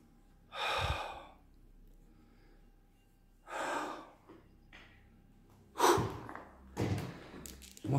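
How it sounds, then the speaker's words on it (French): Heavy, winded breathing from someone exploring a château, with loud gusty breaths at irregular intervals, close up and with no talk between them. "Moi, je suis un petit peu essoufflé là."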